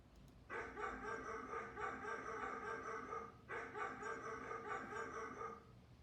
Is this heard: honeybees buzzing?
no